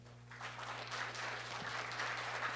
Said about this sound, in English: Please, a big applause to Baidu.